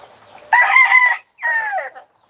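A farmyard rooster crows nearby, loud and clear, in two drawn-out, strained phrases, the second shorter and trailing off, with no voices.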